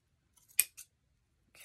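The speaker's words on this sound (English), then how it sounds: "just take your scissors, trim all that extra stuff off" Scissors trimming frayed strings give a couple of quick, crisp snips close by, with a faint rustle just before and another brief cutting sound at the end, in an otherwise quiet room.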